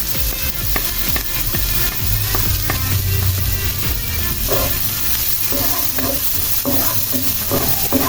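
A chopped white onion sizzles loudly and steadily in a hot pan while a utensil stirs it with repeated scraping and clatter, close up and continuous, with no voices.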